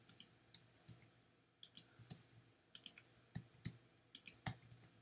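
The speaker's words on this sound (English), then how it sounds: "I'm just going to type some numbers in here just to turn some of these back green" Typing numbers on a computer keyboard into an Excel inventory sheet: a steady run of sharp, distinct key clicks at an uneven pace, close and quiet, with no talking.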